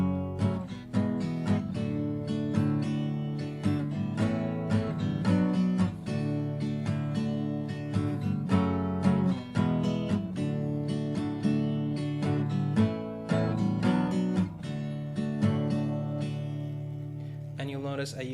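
Guitar strumming the chorus chords of a song, steady rhythmic strums with regular accented downstrokes, played alone at a moderate volume.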